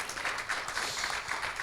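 Conference audience in France applauding a speaker, a brief, dense patter of steady clapping from a seated crowd.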